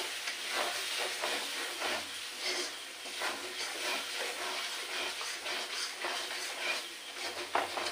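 Meat with chili powder sizzles and hisses in a hot pan, a steady broadband frying crackle throughout, close and fairly loud with no voices.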